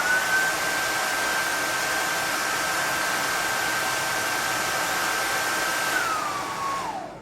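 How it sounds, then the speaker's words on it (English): A hair dryer blowing on wavy, curly hair, a loud steady whooshing roar with a constant motor whine that drops in pitch and cuts off near the end. "then putting the dryer on and holding it for say 10 seconds"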